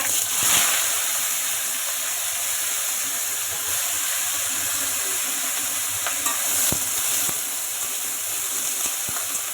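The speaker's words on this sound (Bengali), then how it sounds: "কড়াই বসিয়ে দিয়েছি পটল আলুটা ভাজা করবো বলে" Pointed gourd and potato fry in a wok with a steady, close sizzle and hiss, broken by occasional sharp clicks of a spatula stirring.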